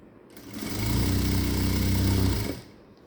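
A sewing machine runs in one continuous burst of about two seconds, stitching blouse lining pieces together for a princess-cut blouse. Its motor hums evenly and close, rising at the start and dropping off at the end, with no speech.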